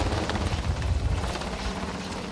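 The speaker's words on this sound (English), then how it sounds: "You can hear that chopper just above us here." A helicopter flies low overhead above a wildfire scene near a road, its rotor producing a loud, steady, rumbling thrum that continues without a break for the whole stretch.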